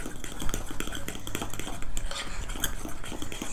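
A spoon stirs and scrapes chocolate s'mores waffle batter around a bowl, making continuous close clinking and swishing with no voices.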